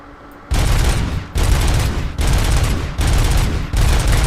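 Full-auto pistol fire in the RoboCop: Rogue City video game, delivered as four long, loud, continuous bursts with brief pauses between them and no talk over it.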